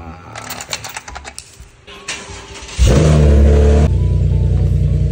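A sports car engine starts and settles into a loud, steady idle rumble after a few seconds of clicking and clatter, with a person talking beforehand.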